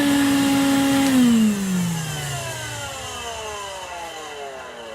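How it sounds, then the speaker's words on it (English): A rough-running twin-motor 110 volt industrial wet vacuum, in for repair, roars loudly and steadily at close range, then its motor pitch slides down as it winds toward a lower drone. "Let's plug this thing in and show you it working. So this is twin motor."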